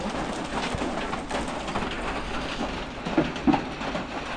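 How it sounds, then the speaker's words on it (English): Heavy rain pouring down outdoors, a continuous broadband hiss with a low rumble underneath and a couple of brief louder knocks near the end, with no talk. "Ooh, it's raining seriously."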